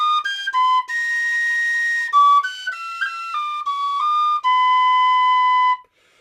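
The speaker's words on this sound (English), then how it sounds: "on this whistle, I can use that by slightly dipping my breath to tune it in." A tin whistle plays a lively Bach bourrée, bright clear notes moving quickly through the lower and upper registers in a steady dance rhythm, close and loud, alone with no talking.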